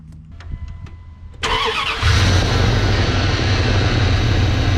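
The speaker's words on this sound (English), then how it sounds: "start the truck so you can test your battery again to see if it's properly charging" A second-generation Dodge Ram pickup (1994–2001), just fitted with a new alternator, cranks briefly and fires up, then settles into a loud, steady idle close by.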